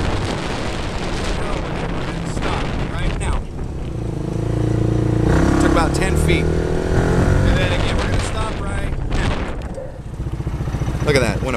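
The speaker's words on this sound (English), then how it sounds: "It's going pretty fast, and it stops on a dime." A 170cc UTV utility vehicle driven fast outdoors, engine roaring and revving with rising and falling pitch, then braking to a quick stop, with someone talking over it.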